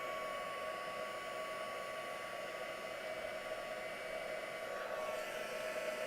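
A heat tool runs continuously over a mixed media artwork, giving a steady, close, even blowing roar from start to finish with no pauses or talk.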